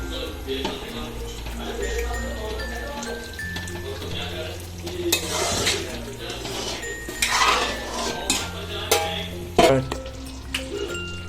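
A pot of pav bhaji bubbles and sizzles, with stirring scrapes and metal clatter against the pot coming in uneven bursts, loud and close.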